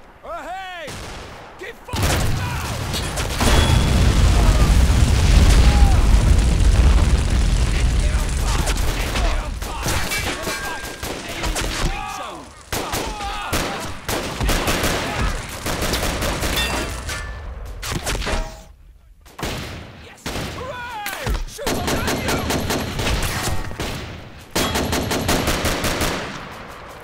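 Gunfire rattles through a Men of War video game battle with sustained machine-gun bursts and booming blasts, loud and dense near the start, then continuing in choppy volleys with voices shouting underneath.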